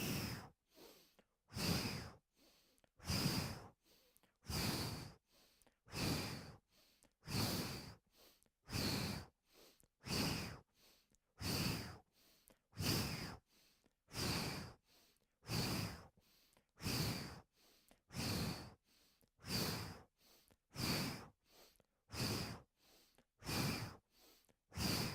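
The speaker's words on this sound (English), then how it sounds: "So as you twist to your right, you inhale through your nose. And then when you twist to the left, you open your mouth in an O shape and you exhale." Yoga twisting breaths for lower-limb recovery, with a long steady series of about twenty rhythmic breaths, each a nasal inhale followed by an open-mouthed exhale, close and loud with short pauses between and no talk.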